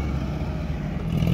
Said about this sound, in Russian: Так, Запорожец едет назад.